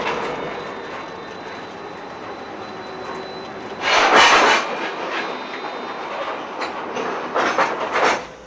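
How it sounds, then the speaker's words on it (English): An ore train on the Malmbanan line in Sweden is shunted by a Class T46 diesel locomotive, heard at a distance as a low rumble of wagons with sudden loud bursts of metallic clanking and clatter midway and near the end. "whilst the train is being marshalled by a Class T46 diesel locomotive"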